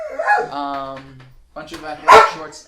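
A pet dog named Bobby lets out a short, close bark and yip in a bedroom while a person talks over it.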